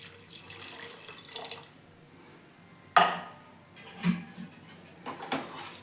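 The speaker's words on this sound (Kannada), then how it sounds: "ತೆಂಗಿನಕಾಯಿ ಹಾಲು, ಅದು ಸೇರಿಸ್ಕೊತಾ ಇದ್ದೀನಿ" Coconut milk is poured into a cooking pot of chicken, giving a short splashing, gurgling pour with a sharp clatter of the vessel, then a few quieter kitchen knocks and drips close by.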